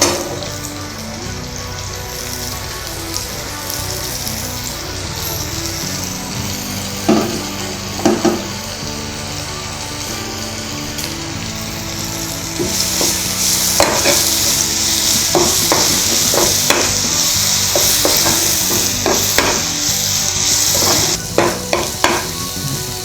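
Ginger-garlic style paste sizzles in hot oil with sautéed garlic and green chilies for homemade Chicken 65, a steady loud frying hiss under repeated spoon stirs and scrapes that grow busier and brighter halfway through.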